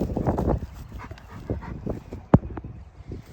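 An athletic long-legged working dog whimpers and makes a sharp yip amid outdoor activity on a hillside, with a few short vocal bursts and one louder sudden yelp near the end.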